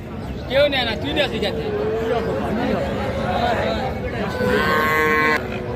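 A piebald bull calf moos several times nearby at an outdoor cattle market, over a steady hubbub of people chatting in the crowd.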